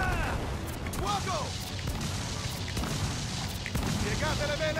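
Cannon fire during a naval battle in the Assassin's Creed Freedom Cry video game, heavy booming volleys over constant rushing wind and sea noise, with shouted commands from the crew throughout.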